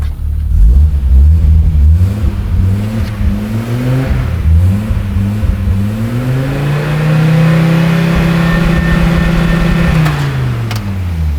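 An Audi S4 engine revs repeatedly with a deep exhaust rumble, the pitch climbing and falling through several throttle blips, loud and close indoors.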